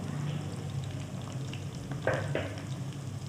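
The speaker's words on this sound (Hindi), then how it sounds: "1 कप मैंने कुकिंग ऑयल डाला है, प्याज डाल दिया, हल्का से इसको सौते कर लूँगी" Onion sautés in about a cup of hot cooking oil, giving a soft, continuous sizzle with a couple of brief stirring scrapes near the end, close and fairly quiet, with no speech.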